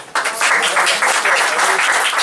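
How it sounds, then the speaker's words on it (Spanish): Audience applause at a live literary reading event starts abruptly and continues as dense, even clapping from a small crowd. "Un aplauso también para Norma Rofe."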